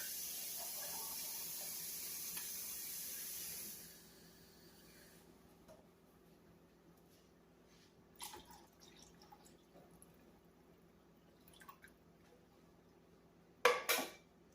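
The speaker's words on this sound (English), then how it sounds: "I'm going to add 1 can of water." Water pours steadily into a pot of chili for a few seconds, then stops, followed by quiet drips and a few metallic clinks of cookware.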